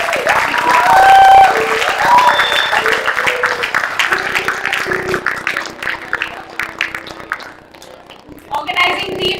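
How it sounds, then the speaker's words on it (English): Applause from students at a higher-education conference rises in a dense crackle beneath tonal voices and ringing sounds, fades toward a quieter stretch, then swells briefly again near the end. "So big round of applause for Balani sir."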